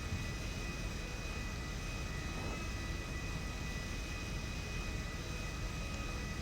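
A passenger airplane lands at Don Mueang airport in GTA V, its broad, steady engine roar filling the whole stretch at constant loudness with no voices heard.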